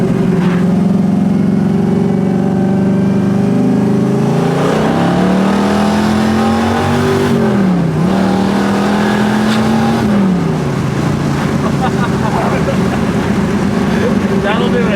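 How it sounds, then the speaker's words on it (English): A loud, deep carbureted 540-cubic-inch big block V8 in a 1968 Camaro roars and revs up through rising pitch, sustained and close, with people talking over it. "Such a cool car, such a great motor."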